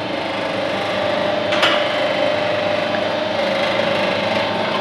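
A Mechmark coconut oil expeller press rated at 23 to 30 kg per hour runs steadily while copra is fed into it, giving a continuous close mechanical whir and rattle with no speech.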